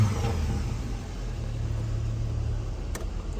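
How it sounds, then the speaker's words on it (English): A Toyota work truck engine with 186,000 miles rumbles close by at a dealer auction, its exhaust droning steadily with a slight rattle, a slight rise in revs and a brief click near the end. "I could hear the exhaust."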